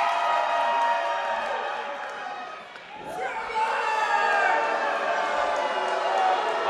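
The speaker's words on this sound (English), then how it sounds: "Vig's working the crowd, and the crowd is loving it." The crowd at a UCW-ZERO indoor wrestling event cheers in a dense, steady roar that dips briefly midway and then surges back, loud and sustained throughout.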